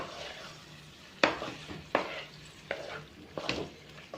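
Kasuri methi is stirred by hand through capsicum paneer with onion in a pan, giving a soft continuous scraping, with four sharper spoon knocks against the metal spaced about a second apart over a light sizzle.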